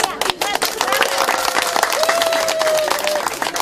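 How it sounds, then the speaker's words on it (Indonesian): Guests at a traditional Papuan wedding ceremony break into brisk, close clapping with some chatter and a thin whistle-like tone through the middle, continuous throughout. "Dan tepuk tangan sebagai tanda bahwa pernikahan mereka telah resmi dilakukan di hadapan hukum adat"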